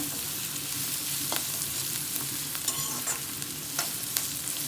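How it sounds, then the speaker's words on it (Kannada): Cashew chicken with onions frying dry in a pan, a continuous close sizzle with intermittent scraping stirs and light utensil taps throughout. "ಇದೆಲ್ಲ ಚೆನ್ನಾಗಿ ಫ್ರೈ ಆಗಬೇಕು."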